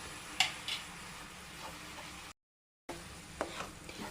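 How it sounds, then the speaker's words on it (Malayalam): Spoon stirring a jaggery, flattened rice and grated coconut mixture in a pan, soft scraping and light ticks with a couple of sharper clinks, moderately close, with a short gap of silence midway. "നല്ലതുപോലെ ഒന്ന് ഇളക്കി യോജിപ്പിക്കണം."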